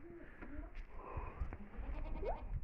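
Short goat bleats rise out of a noisy barnyard, one near the start and a higher, rising cry near the end, with low rumbling and shuffling throughout.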